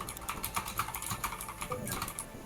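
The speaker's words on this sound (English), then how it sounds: "Spend enough time writing stuff, you get pretty fast at typing" Rapid, quiet keystrokes on a computer keyboard form a fast, uneven patter of light clicks, heard alone at close range.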